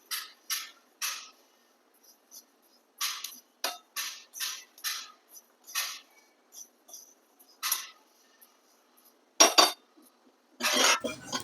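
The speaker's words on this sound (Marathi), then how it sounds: "पाच ते सहा मिनिट आपण हे कारळी कंटिन्यू असे कढाईमध्ये इकडं तिकडं करत राहिलेलो आहे" Niger seeds roast in a wok for a spicy chutney and are stirred with a utensil, producing intermittent close scraping and rattling bursts of dry seeds separated by near-silent gaps.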